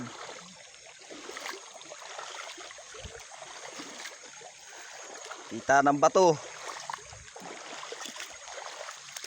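Steady, faint rush of a shallow river flowing over visible rocks, continuous in the background while someone speaks briefly near the middle.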